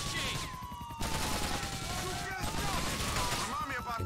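Rapid bursts of automatic gunfire in Grand Theft Auto IV: The Ballad of Gay Tony, dense and continuous with sharp overlapping shots, under a voice talking over the game.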